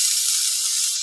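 Ground steak burgers hitting a hot cast iron pan, giving a loud, steady, bright sizzle and hiss that holds evenly throughout, with no talking.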